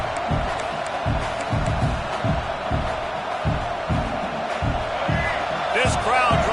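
Stadium crowd roar from a college football video game, LSU at Mississippi State, a steady dense wash of cheering under a commentator's voice, with rhythmic low thumps pulsing throughout.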